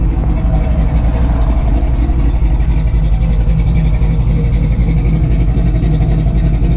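A 1963 Chevy Nova engine runs steadily at idle, a loud, close, continuous low rumble with no talking over it.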